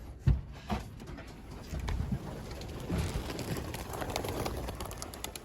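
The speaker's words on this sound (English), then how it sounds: "I heard some birds." Soft cooing from pigeons outdoors, a few low murmuring calls at a distance over rustling ambient noise and faint background movement.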